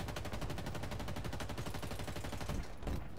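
Automatic gunfire in the video game Halo Infinite rattles out in rapid, evenly spaced bursts for several seconds, then a couple of heavier separate shots, with no voices over it.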